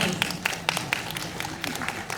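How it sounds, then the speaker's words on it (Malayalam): Scattered applause from a small crowd at a film pooja ceremony, with uneven claps at close range and some talk mixed in. "കയ്യടി കൊടുക്കാം."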